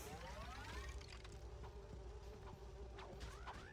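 Insect buzzing from the Ratchet and Clank 2 video game, a steady droning hum with wing-like whines sweeping past, continuous and fairly dense over a busy game soundscape, no talking.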